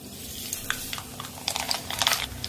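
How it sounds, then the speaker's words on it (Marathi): Mustard seeds crackle and spit in hot oil for a chivda tempering, a dense run of sharp pops and ticks that thickens toward the end, fairly close and steady with no talk. "त्यासाठी मोहरी"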